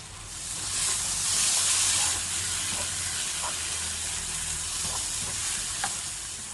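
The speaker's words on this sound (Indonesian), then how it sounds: "maka kita akan menumis bumbunya terlebih dahulu tanpa minyak" Ground spice paste for ingkung sautés in a pan without oil as its water cooks off, giving a steady, close broadband sizzle and hiss with occasional soft stirring ticks and no talk.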